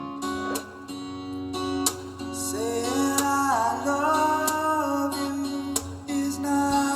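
Strummed guitar chords, tuned a semitone lower, ring out with a low, slightly deep tone, layered with sustained notes and a gently sliding melodic line, steady and moderately loud.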